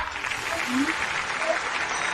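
An audience gives warm applause as a woman is welcomed onto the stage at a business event; the clapping is a soft, steady patter heard from a distance, with faint voices mixed in.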